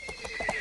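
A brief, close video game horse whinny, short and light, with a faint clop beneath it.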